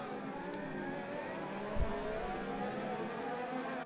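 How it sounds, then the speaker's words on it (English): Race cars from an F1 video game, racing at Monaco in an F2 season, drone steadily with a continuous engine roar, and one car passes by close and loud midway through. "if you guys can still hear the cars, that's fine by me"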